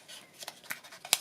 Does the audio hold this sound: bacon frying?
no